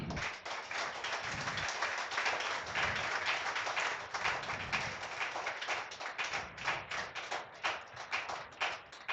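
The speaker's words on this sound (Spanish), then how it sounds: "Dale un fuerte aplauso al Señor." A church congregation claps together during a sermon, rapid rhythmic hand claps that are fairly soft and roomy, keeping a steady beat throughout without voices.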